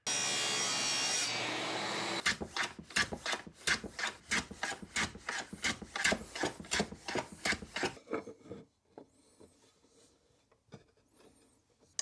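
Strokes of a hand plane trim walnut ends at a shooting board in a workshop, a run of quick, rhythmic shearing swipes close up, tapering off into fainter scrapes.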